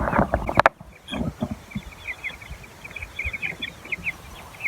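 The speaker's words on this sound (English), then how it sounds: "here we are at the chicken tractor. And here are the chicks." Three-week-old meat chicken chicks in a chicken tractor give a steady stream of small, overlapping clucks and peeps at moderate distance, following a brief louder clatter at the start.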